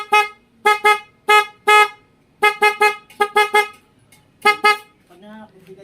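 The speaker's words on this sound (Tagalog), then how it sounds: "etong busina nito, gusto niya mas malakas" A weak, hoarse horn on a Yamaha Mio i 125 motorcycle is tested in a string of short honks with brief gaps, then a voice speaks briefly at the end.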